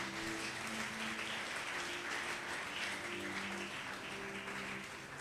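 Church congregation at a Sunday evangelical service applauding, a dense continuous wash of many hands clapping, steady and fairly loud with a sustained organ-like tone underneath.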